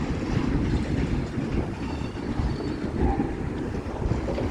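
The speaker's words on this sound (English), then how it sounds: "Gee, how long is this train? Like, jeez, 2 engines and this long?" A long Union Pacific manifest freight train led by two engines rolls past close by, low flat cars rumbling and clattering in a loud continuous roar with heavy wind buffeting on the microphone.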